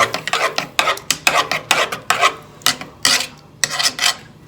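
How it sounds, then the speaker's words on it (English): Homemade taco sauce ingredients stirred in a bowl or pot, a close, steady run of scraping, rubbing strokes in an uneven rhythm, alone without talk. "Okay, I've added the other ingredients. Stir it up a bit more."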